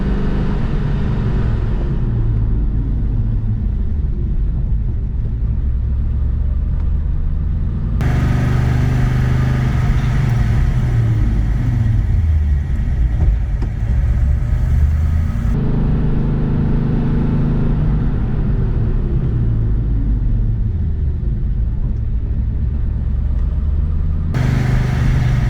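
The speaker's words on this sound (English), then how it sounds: "we're now going to do a little bit more moderate braking." A car driving at speed while doing moderate braking to bed in new brakes, a steady loud engine and road rumble with cabin drone that swells and eases in long cycles.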